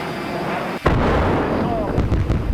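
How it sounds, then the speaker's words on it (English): Heavy booms and rumbling blasts roll continuously, loud and dense, with a sudden sharp onset after a brief dip; distant-sounding detonations layered over each other. "I just hear a lot of loud booms right now."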